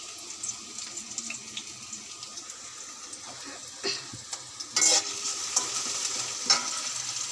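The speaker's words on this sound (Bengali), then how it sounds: "পেঁয়াজ ভাজা হয়ে গেছে, লাল লাল" Onions fry in a pan with a soft, steady sizzle, broken by a few scrapes and stirring clatters. No one speaks.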